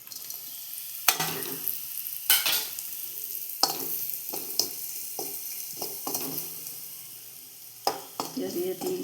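Crushed chili and dried prawns frying over low heat in oil in a pan, stirred in intermittent scraping bursts over a steady close sizzle, with a few sharp clinks and pauses between strokes.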